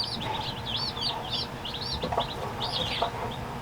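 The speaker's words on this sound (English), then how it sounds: "Want to see the chickens?" Chickens cluck and chirp in bursts over a steady farmyard background, fairly close, with a few sharper calls toward the end.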